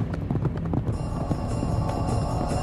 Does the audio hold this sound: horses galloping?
yes